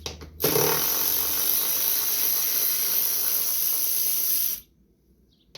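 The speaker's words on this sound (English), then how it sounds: "we need to get these plastic shields off, which is a 10mm socket" Power tool with a 10mm socket removing the plastic shields on a John Deere S170 riding lawn mower from 2021: one loud, steady whirring burst of about four seconds, close by, stopping abruptly.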